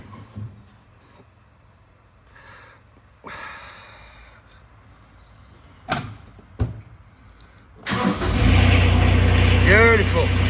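A John Deere ProGator 2030A utility vehicle engine, hard-starting and fitted with new glow plugs, cranks after a preheat with a few sharp clicks and knocks, then catches at about eight seconds into a loud, steady close-up idle.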